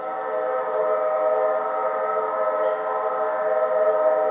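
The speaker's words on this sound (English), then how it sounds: "somewhere behind us a train whistle blew." A steady, sustained train whistle sounds continuously, loud and harmonically rich, holding one chord throughout without breaks.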